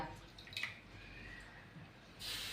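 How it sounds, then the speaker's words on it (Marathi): A cook spreads water by hand over a sesame-topped bajra (pearl millet) bhakri on a hot griddle, making soft, quiet wet dabbing and light dripping sounds, with a brief louder splash of water near the end. "त्यावर आपण भाकरीवर पाणी लावून घेऊया"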